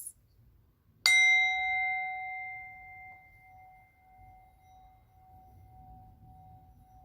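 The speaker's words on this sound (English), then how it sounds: "Tibetan singing bowls also create that high-pitched ringing tone similar to the tingsha bells" A Tibetan singing bowl struck once, giving a bright metallic strike and then a clear high ringing tone that hangs and slowly fades over several seconds against a faint low background hum.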